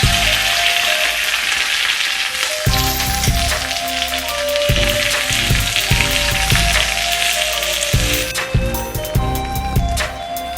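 Mustard seeds, fenugreek, curry leaves and onion sizzle loudly in hot oil for a tilapia mappas, a dense close crackle with intermittent low clattering bursts from stirring.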